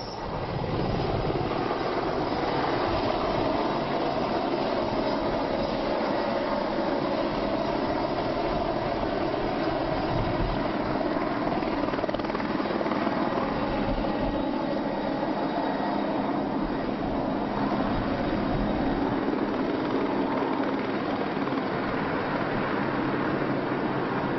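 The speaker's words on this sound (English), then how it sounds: "she and the helicopter crew make their way over to the falls" A helicopter taking off near Niagara Falls, its engine droning steadily and loudly, with a continuous rotor hum and no pauses or voices.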